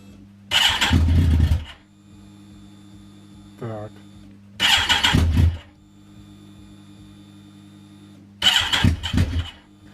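A Kawasaki ZX14 motorcycle engine cranks in three separate starter bursts of roughly a second each, close and loud, with a steady electrical hum between attempts and brief speech in a gap.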